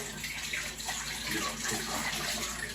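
Water from washed dishes runs and drips steadily off a drying rack straight into a kitchen sink, a continuous close, broadband splashing trickle with no pauses.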